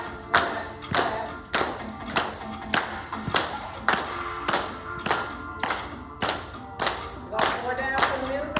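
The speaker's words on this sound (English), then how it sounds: "Going back and clapping. Clap, clap, clap, clap." Rhythmic hand clapping in time with music during a session on the mental health benefits of clapping, a steady series of sharp, loud claps about once per second over the backing music.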